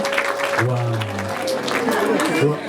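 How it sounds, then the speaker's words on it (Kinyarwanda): Guests at a wedding break into applause, a busy patter of clapping running under a voice and a steady droning tone for a few seconds. "Amashyi menshi cyane n'impundu mwa miryango mwe."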